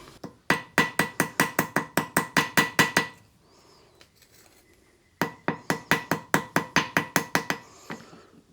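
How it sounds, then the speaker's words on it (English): Hammer tapping the rolled edge of a Husqvarna 5 Series chainsaw muffler heat shield straight on an anvil: two bursts of about a dozen quick, evenly spaced bright metallic strikes, separated by a short quiet pause. "Let's take this over to the anvil and just kind of tap that back straight"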